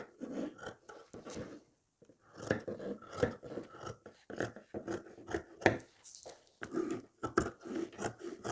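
Scissors cut through old denim jeans fabric for a backpack, giving a close series of crisp, irregular snips and rasping fabric sounds with short pauses.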